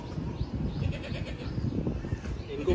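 Goats bleating among newborn kids at a home pen during Bakra Eid time, calls scattered and mixed with steady background chatter and voices of people talking nearby.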